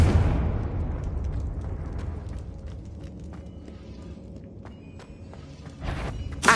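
A Confringo blasting spell explodes in Hogwarts Legacy: a loud blast opens the clip, then a rumbling roar slowly fades, with a fresh burst of noise near the end.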